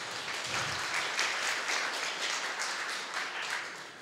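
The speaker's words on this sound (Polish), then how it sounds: "Oklaski." An audience at a talk applauds, a continuous wash of clapping that holds steady for about four seconds and then begins to fade.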